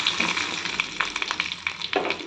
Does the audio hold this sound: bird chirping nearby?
no